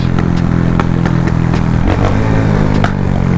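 A motorcycle engine idles and runs steadily close by in a Jamaican bike-life setting, a loud continuous rumble with light rattling and clatter throughout, no talking.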